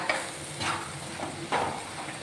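A spoon stirs and tosses cowpea stir-fry (Kerala-style vanpayar mezhukkupuratti) in a hot pan, giving a few soft scraping sweeps over a faint sizzle, close and quiet with no talk.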